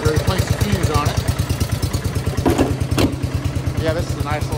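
A John Deere 110 lawn tractor engine idles nearby with a fast, even chugging pulse, loud and close, while someone talks over it.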